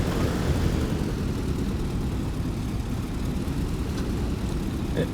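A P-47 propeller engine in the DCS flight simulator runs at a constant RPM, a dense, steady low drone held at an even level throughout with no voices over it.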